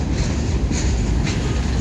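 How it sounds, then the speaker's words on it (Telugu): An empty goods train rolls slowly past at steady, close range, giving a continuous low rumble of wheels and wagons with no pauses and no voices. "ఎంటీగా వెళ్తుంది గూడ్స్ వేగనం"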